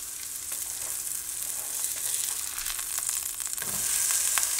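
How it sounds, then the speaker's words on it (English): Burger buns toasting inside an air fryer give off a steady, faint sizzling hiss with a fan-like whir. It builds slightly toward the end, with no talk. "So I'm toasting my buns in the air fryer right now."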